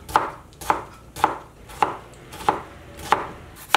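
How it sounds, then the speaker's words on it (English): A knife chops tomatoes on a cutting board in a home kitchen, six sharp, evenly spaced close taps at a steady rhythm with no talking. "Second thing we're gonna be chopping is going to be the tomatoes."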